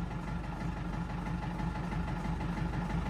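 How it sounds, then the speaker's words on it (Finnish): A cold Valmet tractor engine idles with an uneven, hammering beat, a steady low rumble carrying a rough pulsing rhythm throughout, close and alone with no talk. "Kylmänä tää on tää tyhjäkäynti Valmetissa."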